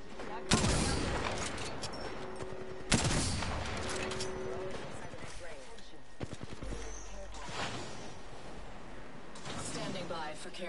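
Gunfire in a first-person shooter video game: sharp, loud bursts of shots at intervals, with rapid crackling volleys between them and a voice talking over the action.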